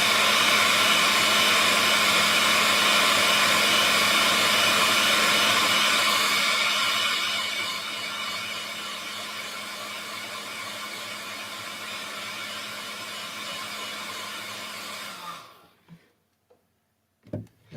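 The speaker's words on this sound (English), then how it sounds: "I'm just going to dry it off with a hairdryer." A hair dryer blows steadily on wet paint on a small cactus artwork, a loud continuous whooshing hum that drops to a lower setting midway and then switches off near the end.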